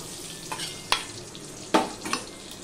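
Bay leaf and dried red chilli tempering in hot oil for a simple vegetarian dish, giving a soft, faint sizzle with a few short crackling bursts and light stirring scrapes.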